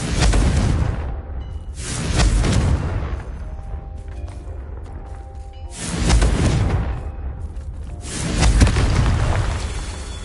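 Confringo fire spell blasts from the Hogwarts Legacy video game, several loud booming explosions with whooshing rushes about every two to three seconds, separated by quieter rumbling.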